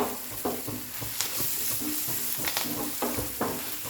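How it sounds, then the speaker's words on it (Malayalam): Coriander powder roasts in a pan over a high flame for a prawn dish, a constant dry sizzle broken by repeated scraping stirs, close and moderately loud, with no talking. "ഇത് ഹൈ ഫ്ലെയിമിൽ തന്നെ വെച്ച് മല്ലി നല്ലവണ്ണം ഒന്ന് മൂത്ത് കിട്ടാനുണ്ട്."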